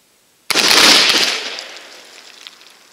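A single massed volley from P53 Enfield rifle-muskets fired together on command, a loud sharp crack that rolls out into a long decaying rumble and echo, with no talk.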